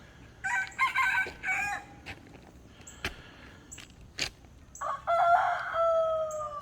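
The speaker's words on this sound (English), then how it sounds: "Morning, roosters." Roosters crowing in the morning outdoors, two long crows at the start and end with sharp clucks and knocks in between, fairly close and loud.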